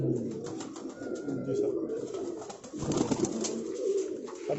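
Golden pigeons coo in low, repeated rolling calls on a rooftop loft in Rawalpindi, close and clear, with a brief spoken reply among them.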